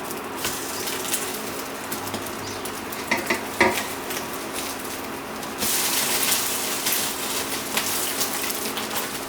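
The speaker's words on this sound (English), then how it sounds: "now we're just going to let it slowly toast the bread at the base first" An egg toast sandwich sizzling in a single pan as the bread toasts, a steady close frying hiss with a few sharp pops midway, then a louder, fuller sizzle for the last few seconds, with no talk.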